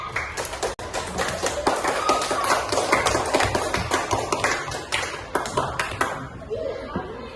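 Classroom applause for a student group in an Indonesian primary school lesson, many hands clapping in a lively, uneven patter of sharp taps that continues for several seconds and then tapers off.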